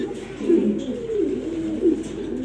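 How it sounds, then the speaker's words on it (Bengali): A male breeding pigeon coos close by, several low, rolling, rhythmic coos in quick succession against a quiet indoor background. "একটা আমার ব্রিডিংয়ের কবুতর, আপনারা চাইলে নিতে পারবেন।"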